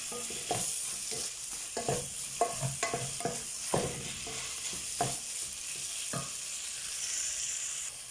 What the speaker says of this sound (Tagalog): Mas maganda yung ginigisa muna.